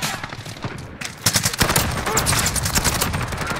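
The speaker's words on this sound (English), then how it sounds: "He shot that shotgun all the way across the map." Shotgun blasts in Call of Duty: Modern Warfare multiplayer, a cluster of loud close gunshots and rapid firing after a quieter opening with faint voice and game ambience.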